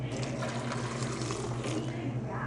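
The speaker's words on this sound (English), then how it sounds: "We're going to add a little bit of the pasta water that's warm." Warm pasta water poured onto cashews in a cooking container, a steady close liquid pour with a constant low hum underneath, no talking.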